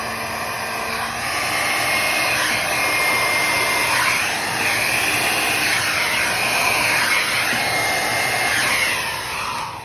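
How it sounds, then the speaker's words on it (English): A hairdryer blows steadily across wet fluid paint on a poured abstract canvas, a loud continuous whirring airflow with slight shifts in pitch as it moves, running alone for about ten seconds. "So I'm gonna use my hairdryer first just to like spread some of the paint out."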